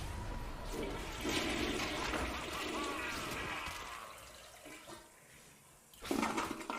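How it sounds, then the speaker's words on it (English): A toilet flush fired from a stream deck button during a game stream: a loud rushing gush of water that swells, drains away to a low trickle, then surges briefly again near the end. "Now everyone has to hear the toilet flush every single time Medivh loses stacks."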